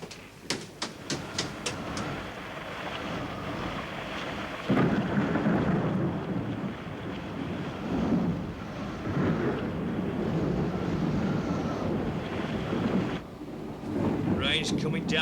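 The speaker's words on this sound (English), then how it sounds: "Rain's coming down in bucketfuls" Heavy rain and rolling thunder at sea pound steadily around a ship, with sharp cracks near the start giving way to a dense, continuous roar of downpour and wind.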